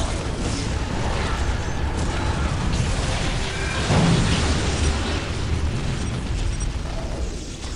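An Imperial Guard strafing run in the real-time strategy game Dawn of War rumbles and bursts in a dense, continuous barrage of battle noise. A heavier blast lands near the middle.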